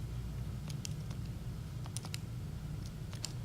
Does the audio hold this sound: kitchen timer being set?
no